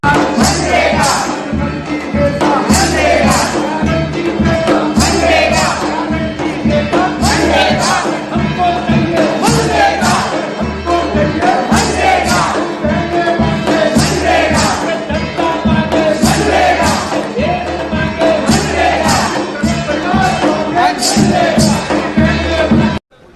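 A crowd at the launch of the MGNREGA Bachao Sangram campaign at Jawahar Bhawan, New Delhi, claps loudly and continuously, mixed with cheers and voices, and the applause stops abruptly at the end.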